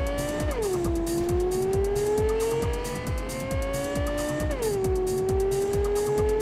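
A race car's engine in Cyberpunk 2077 drones loud and close through a steady high-revving run, pitch sweeping down on each gear shift with rapid rhythmic pulsing throughout and no talk.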